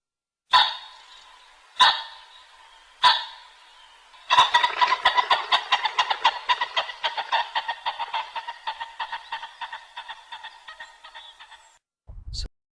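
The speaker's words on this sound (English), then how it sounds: "Common pheasant." Common pheasant calling alone, three sharp separate crowing bursts followed by a long rapid series of harsh clucking notes that gradually fade, with a brief low thump at the end.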